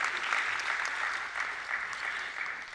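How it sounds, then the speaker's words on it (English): Crowd applauding at the inaugural ceremony of a gender equality conference, an even, sustained burst of many hands clapping, moderately loud and unbroken, with no talk over it. "That really calls for some happiness and applause."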